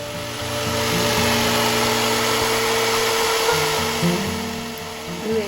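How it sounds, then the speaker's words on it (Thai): A power jigsaw cuts through wood boards for building an apartment balcony deck, a steady loud buzzing whine that runs continuously for several seconds with shifting tone as the blade moves through the timber. "ชนิดนี้เรื่อย ชื่อเรื่อย จิ๊กซอค่ะ"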